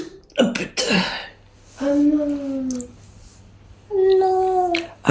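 A person with cracked ribs coughs and clears their throat in a couple of rough bursts up close, followed by strained, pained vocal groans.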